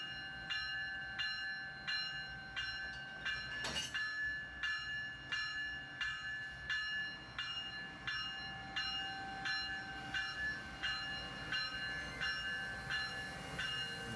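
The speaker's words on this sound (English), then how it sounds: "We can just barely see the locomotive pull back a bit just to make sure that it's a good connection" An Amtrak locomotive couples to passenger train cars: one sharp metallic clank stands out against a steady, rhythmic ringing bell that repeats throughout in a busy rail-yard setting.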